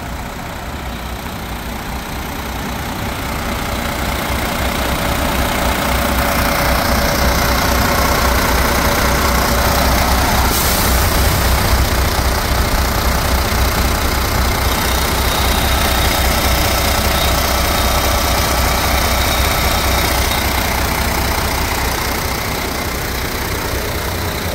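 Two 2013 International TranStar single-axle trucks with MaxxForce engines and Allison transmissions idle side by side, one with a dirty DPF, giving a steady, loud low diesel rumble that holds unbroken throughout with no talking.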